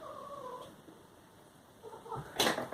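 A house cat gives a short, faint meow early on, then a pause of quiet room tone before brief rustling and a sharp louder noise close to the end.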